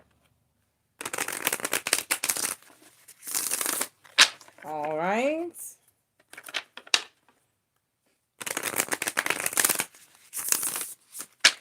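Tarot cards are shuffled in several crisp, riffling bursts, close and clear, with a short spoken remark and a brief hummed sound between the shuffles.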